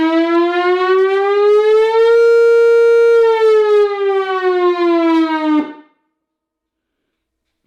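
A Whelen Vortex R4 civil defense siren sounds a noon test, a loud close wail that winds up, holds a steady high tone, sags slightly and is cut off as it winds down, leaving silence.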